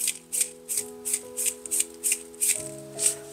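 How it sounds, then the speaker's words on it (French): Fine salt grains patter onto Arches watercolor paper in quick, rhythmic gritty bursts, about nine light sprinkles, over soft sustained background music. "On va venir mettre le sel fin"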